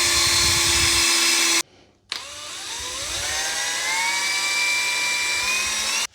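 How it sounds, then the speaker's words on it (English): Mechanical whisk on a drill mixing trade paint, a loud whirring motor that cuts out briefly, then restarts and rises steadily in pitch as it churns the paint, no talk. "I've got a mechanical whisk here"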